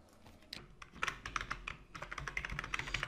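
Code is typed on a computer keyboard, quiet and close, in quick irregular clusters of key clicks with short pauses between bursts.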